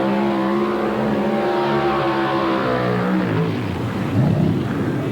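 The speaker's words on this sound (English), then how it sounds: "Mike Pacina moving up there on the line, warming that engine up" A mud racing car engine idling and revving on the starting line at a 1991 NMRO event in McComb, Mississippi, a loud continuous throaty rumble that swells and climbs in pitch toward the end.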